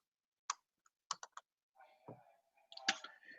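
Sparse keystrokes on a computer keyboard in a quiet room, a few isolated clicks followed by a short burst of quicker taps, close and soft.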